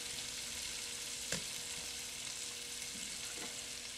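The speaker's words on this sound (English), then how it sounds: "I'm just going to go ahead and start putting my sausage in" Sausage sizzles in bacon grease in a pan, a steady, even frying hiss with a couple of brief clunks from the pan or utensil, quiet and close.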